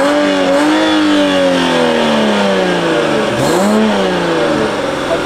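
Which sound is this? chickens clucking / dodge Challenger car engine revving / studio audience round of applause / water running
dodge Challenger car engine revving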